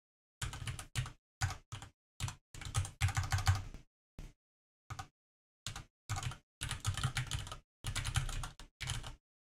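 Typing on a computer keyboard comes in close, crisp bursts of rapid keystrokes separated by short pauses, with no talk.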